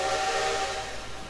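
The steam whistle of a CN S1b 2-8-2 locomotive in the Trainz 2019 simulator blows one steady, breathy chime tone with a hissing edge, heard alone and easing slightly in loudness.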